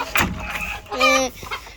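Laying hens make a couple of short, close clucks, one sharp call followed by a longer drawn-out cluck, with a quiet voice near the start.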